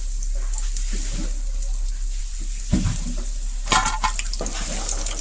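Chhana pakoras for a cashew-raisin curry frying in hot oil, a steady close sizzle throughout with a couple of sharper clattering bursts as pieces are moved, no talking.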